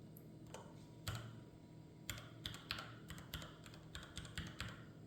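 Irregular clicks of typing on a computer keyboard, quiet and close, in short bursts of keystrokes with brief pauses between.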